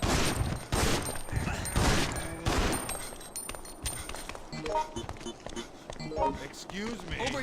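Repeated gunshots in the survival-horror game Resident Evil Outbreak File 2, fired while moving, ring out in several loud bursts early on, then fade under ongoing talk and game noise.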